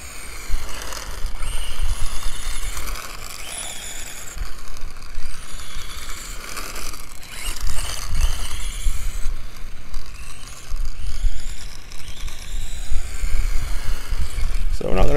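A Tamiya Mad Fighter RC car with a standard 540 electric motor and fast steering servo runs nearby, a fluctuating whine with mechanical rattling that rises and falls as it drives, with someone talking over it.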